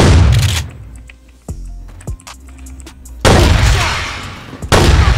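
Heavy 12-gauge shotgun blasts from the game CrossFire: a loud booming shot opens, a few sharper cracks follow in the middle, then two more big blasts with long roaring tails near the end.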